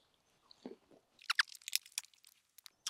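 Close, crisp crunching bites into roast lamb with a crispy fat top, deboned and cooked on a Weber grill, a quick cluster of sharp crackly chews and then a few sparse bites, quiet and without talk.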